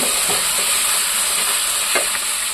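Ginger garlic paste sautés in a pan for a Tamil chicken curry, giving a loud, steady frying sizzle with a couple of brief stirring scrapes and no talk.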